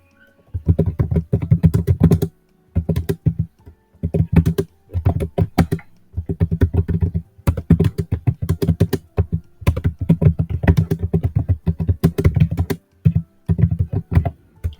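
Rapid bursts of keystrokes on a computer keyboard as code is typed, close and crisp, coming in clusters separated by short pauses, with no talking.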